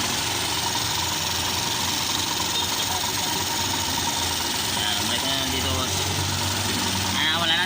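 A small engine idles steadily and loud after its carburetor fuel overflow was fixed, an even mechanical hum with a light rattle, while people talk nearby.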